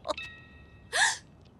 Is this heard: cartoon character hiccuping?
yes